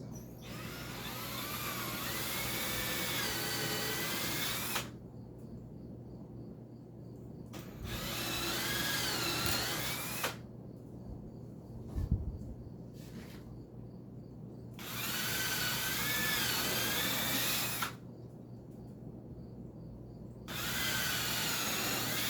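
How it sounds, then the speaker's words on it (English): A power drill whines in repeated bursts of a few seconds each, close up, with quiet pauses between runs as pilot holes are bored into wood. "I'm going to drill some pilots."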